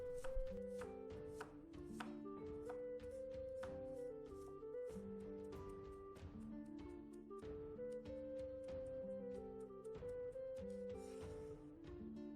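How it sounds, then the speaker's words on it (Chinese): A knife chops carrots finely into mince on a board, fast regular taps sounding beneath prominent background music, with no one speaking. "胡萝卜也切成末"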